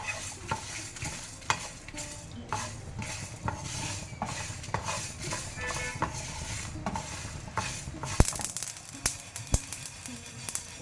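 Sambar spices dry-roasting in a pan without oil make a steady rustling scrape of stirring, with light clinks of a spoon against the pan throughout, close and moderately quiet.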